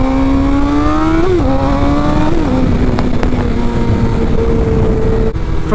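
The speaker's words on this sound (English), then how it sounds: "some fellow motorcycles over there" Motorcycle engines whine close by, their pitch climbing through a couple of quick shifts before settling into a steady hum as they move off.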